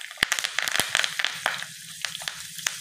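Mustard seeds, cumin and curry leaves crackle and sizzle in hot oil for a rava dhokla tempering, with sharp scattered pops over a low steady frying hiss, close up and fairly quiet.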